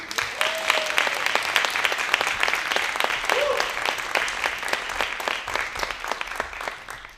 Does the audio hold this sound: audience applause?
yes